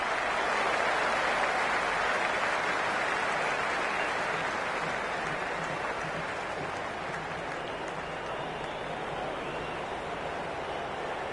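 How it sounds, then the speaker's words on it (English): Cricket stadium crowd applauding and cheering in a steady, dense roar of clapping, broad and continuous like rain, sustained throughout with no clear voices standing out. "The crowd is electric right now."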